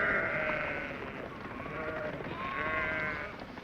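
Sheep bleat in open sheep country, a couple of drawn-out wavering calls over a steady outdoor background, moderately near and with no talk.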